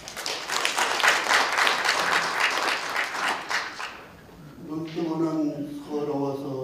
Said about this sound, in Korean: 감사와 축하의 큰 박수를 부탁드립니다